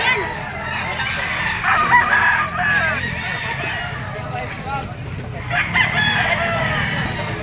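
Roosters crow repeatedly among chickens for sale at a pet market, with loud cock-a-doodle-doo calls and clucking rising over a busy crowd as someone talks nearby.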